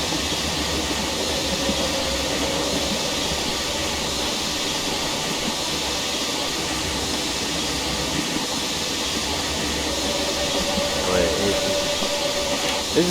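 Steam locomotives on the Brockenbahn line in Train Simulator Classic give a steady rumbling run with a constant hiss of steam, and a faint tonal whistle-like sound rises near the end.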